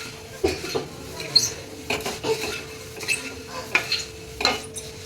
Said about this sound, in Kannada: ಕಡಲೆಪುರಿ ಇಲ್ಲಿ ರೆಡಿ ಆಗ್ತಿದೆ ಒಗ್ಗರಣೆಗೆ ಪುರಿ ಹಾಕೊಳ್ಳೋದು